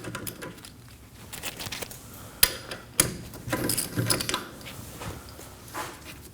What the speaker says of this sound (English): Using a 14mm socket, we're gonna remove these two bolts that hold the caliper in place.